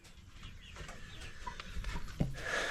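A rooster and a small group of hens cluck and murmur softly in a backyard flock, with faint scattered calls and light rustling growing slightly louder toward the end.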